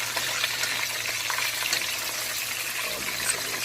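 Red snapper frying in hot oil, a steady crackling sizzle with bursts of popping spatter, moderately close and continuous.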